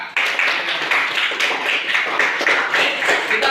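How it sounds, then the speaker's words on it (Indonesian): Classroom applause for a student group, a brief burst of rapid, fairly close hand clapping from a group of students lasting a few seconds. "beri aplaus dulu untuk kelompok 4"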